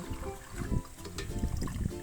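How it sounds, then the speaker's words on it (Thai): Cooled salt brine for salted eggs pours through a strainer into a jar, a close, steady splashing and trickling stream with small irregular surges. "เอาน้ำเกลือที่เย็นแล้วนะคะ มากรอง"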